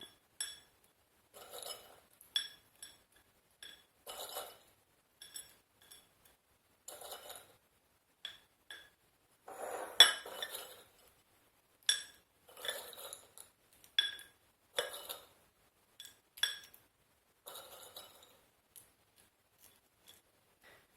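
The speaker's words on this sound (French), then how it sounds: "maintenant je viens répartir le mélange de noix sur l'autre moitié" A nut mixture being spooned into porridge bowls, heard as soft, sparse clinks and taps of a spoon against the bowls with quiet gaps between them.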